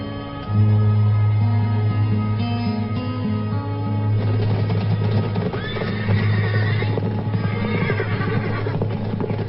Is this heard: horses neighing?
yes